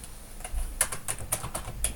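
Typing on a computer keyboard, a quick irregular series of crisp, close key clicks, fairly quiet and with no voices.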